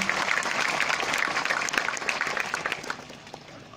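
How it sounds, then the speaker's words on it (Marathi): A hall audience at a student training workshop breaks into sustained clapping, dense and even at first, then thinning slightly toward the end. "जोरदार टाळ्या वाजवा त्यांच्यासाठी."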